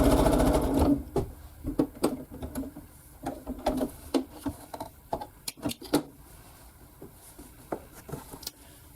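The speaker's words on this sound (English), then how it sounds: "Sew off the edge there." Sewing machine stitching quilt fabric for a scrappy yellow quilt, running in short repeated bursts of rapid needle clatter with brief pauses between, close and fairly loud.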